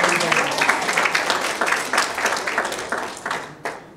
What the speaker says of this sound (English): let's give a hand clap of praise